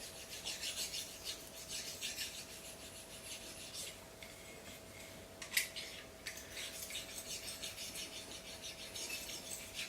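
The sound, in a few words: sharpening a slicing knife on a whetstone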